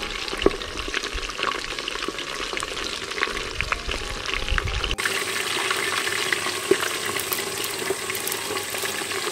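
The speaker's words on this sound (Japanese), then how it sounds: "火が入った順に揚げていこうと思います" Reeves' turtle meat deep-fries in a pot over a Swedish torch log fire outdoors, a continuous dense bubbling sizzle that shifts to a brighter, hissier texture partway through.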